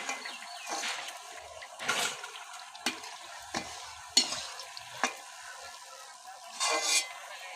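Paan khili pitha made of flour and rice flour frying in oil, a soft steady sizzle broken by several sharp clinks and stirring scrapes of a utensil in the pan, fairly faint and close.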